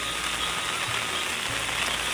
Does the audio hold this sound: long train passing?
no